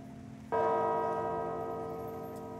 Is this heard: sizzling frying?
no